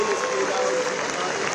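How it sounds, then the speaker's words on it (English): Audience applause for the Holia Dance Academy, a dense, steady wash of clapping from a crowd filling the short moment, with a raised voice riding over it. "One more time, a warm round of applause for the Holia Dance Academy."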